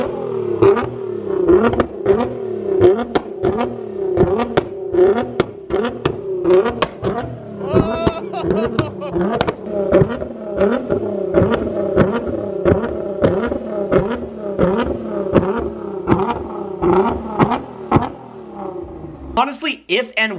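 A 620-wheel-horsepower Nissan GT-R engine revs over and over in quick, rhythmic bursts, each blip rising and dropping sharply, loud and close, until it cuts off near the end.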